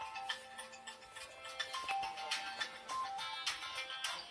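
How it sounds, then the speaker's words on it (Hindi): A phone ringtone for an incoming call plays as a faint, repeating electronic melody of bright tones with no talk over it. "जया भाभी का फोन है"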